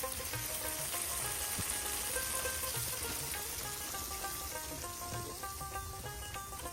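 Pieces of fish sizzle in hot oil with fried onion and chili, cooked outdoors at a fishermen's lakeside home in Bangladesh; a steady, dense crackle runs the whole time with no talk.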